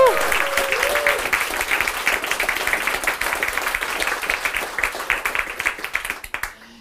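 An audience at a researchers' stand-up comedy show practises its applause, producing steady dense clapping for about six seconds before it tapers off, with a brief voice near the start.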